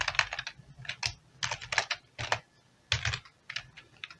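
Rapid bursts of typing on a computer keyboard while coding an Arduino microcontroller in C++, clustered keystrokes in short runs separated by brief pauses, close and clear with no talking.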